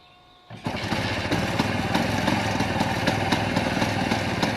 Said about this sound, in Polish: a jako ciekawostka spójrzcie, jak odpalało się silnik tego auta